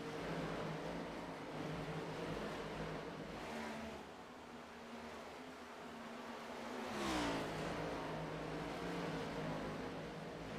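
NASCAR stock cars in a four-car train roaring down the backstretch, a steady loud engine drone with a rising pass-by swell near the end, heard from trackside.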